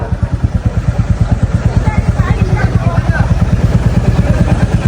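A motorcycle engine idles close by with a fast, even thumping putter that holds steady throughout, and faint voices are buried beneath it.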